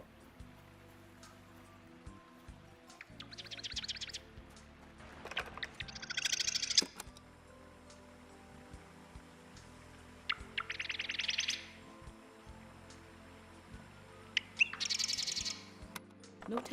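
Birds chirp in bursts of quick, high trills in the game Season: A Letter to the Future, four or five separate calls over a soft ambient bed with faint rustling.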